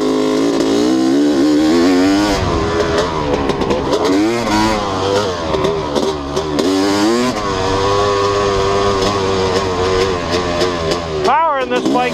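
A Honda CR250 motorcycle engine revs up and down with a wavering, rising and falling pitch. It is loud and close throughout, with someone talking over it.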